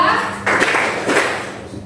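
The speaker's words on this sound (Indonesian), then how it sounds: "Kalau saya bilang satu, kalian tepuknya satu kali ya." A classroom of students gives a single clap on cue, a short loud burst of many hands together, with voices close by before and after.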